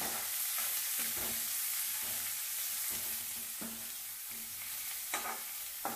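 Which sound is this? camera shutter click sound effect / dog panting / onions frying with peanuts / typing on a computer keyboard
onions frying with peanuts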